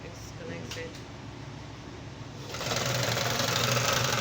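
A Super Fashion electric zigzag sewing machine, run via its foot pedal, starts up and whirs steadily with a rapid mechanical rattle, close and moderately loud after a quieter lead-in.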